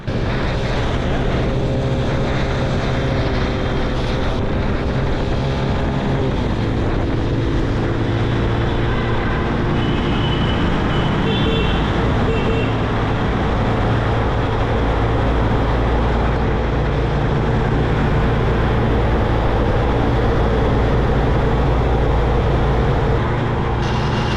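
Small motorcycles ridden along a highway at nearly wide-open throttle, a continuous loud engine drone with heavy wind rush throughout, no voices.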